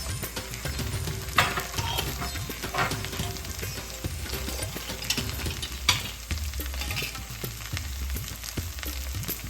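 Steady frying sizzle as ginger paste and ground spices are stirred in a pan for an ivy gourd and potato curry, a spoon scraping in a loose, repeated rhythm, close and fairly loud, with occasional sharper clinks.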